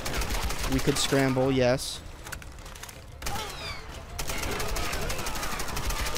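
Rapid bursts of gunfire from the Tomb Raider video game, loud and dense in stretches with short pauses between, mixed with game effects while a person talks briefly.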